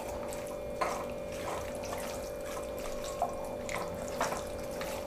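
Half a glass of water goes into a pot of chicken bone soup with oil, onion, salt, chili and turbid, a steady close splashing trickle with a few brief louder splashes, no talk.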